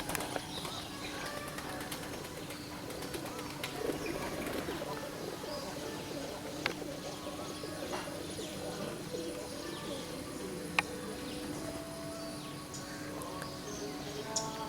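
Racing pigeons coo softly inside a loft, low murmuring calls under a steady background hiss with a few scattered knocks and flutters.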